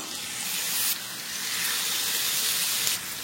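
Chicken pieces drop into hot butter and oil in a pan and sizzle with a steady, loud, hissing wash that barely changes throughout.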